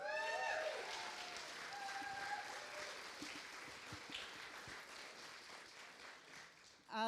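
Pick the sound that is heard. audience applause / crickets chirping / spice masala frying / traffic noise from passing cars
audience applause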